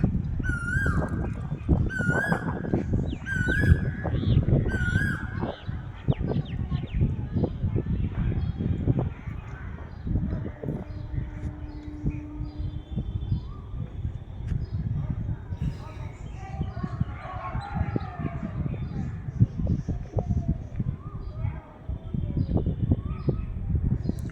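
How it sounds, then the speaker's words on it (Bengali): An Asian koel calls in a series of repeated rising notes among other chirping birds outdoors, with a person talking close by over the birdsong. "ওই দেখো কি সুন্দর ডাকছে কোকিলটা"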